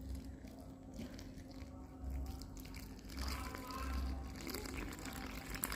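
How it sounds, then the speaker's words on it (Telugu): Water poured into a mixture, a soft continuous splash and trickle that grows fuller and louder partway through, set against a low steady background hum. "నేను నా క్వాంటిటీకి తగ్గట్టుగా వాటర్ అయితే వేసేసుకున్నాను"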